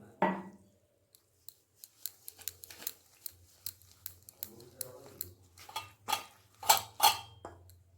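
Rice-flour batter is whisked with water in a bowl for kheer patishapta: scattered clinks and scrapes of a utensil against the bowl, growing busier toward the end over a low steady hum.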